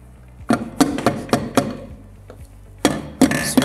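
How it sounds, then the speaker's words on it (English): Sharp taps from a soft hammer strike an engine piston in a cylinder block in an irregular series, some close together, with brief pauses between bursts. "Then I have to get also the soft hammer."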